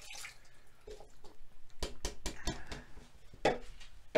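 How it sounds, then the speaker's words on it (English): Liquid ingredients pour over raw pork inside an Instant Pot, a soft splashing and gurgling that runs in uneven bursts, faint and close. "Then pour in the liquid ingredients."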